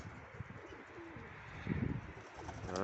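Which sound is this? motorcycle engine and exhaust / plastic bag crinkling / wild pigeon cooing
wild pigeon cooing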